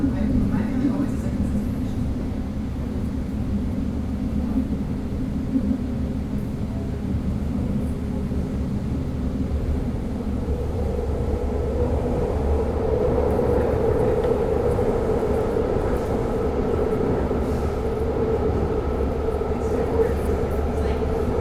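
A BART train runs with a steady, heavy rumble and wheel roar that swells louder about halfway through, a heater humming on board, close and continuous with no talk.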